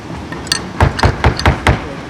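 A hammer smooths a glued leather shoe part in a shoemaking workshop, giving about six sharp, dull taps in a quick, even rhythm, close and loud.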